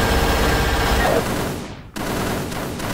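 Rapid gunfire in an action film, a sustained burst of shots that cuts off briefly near the two-second mark and then resumes.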